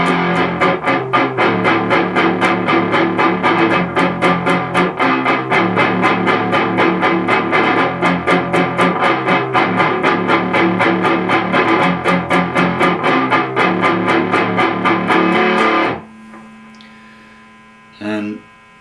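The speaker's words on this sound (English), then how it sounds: "It's going to be palm muted, heavy, and it'll sound like this." Heavy, palm-muted distorted electric guitar chugs through a chorus in a steady, driving rhythm, loud and close, then cuts off into low amp hum and a brief string noise.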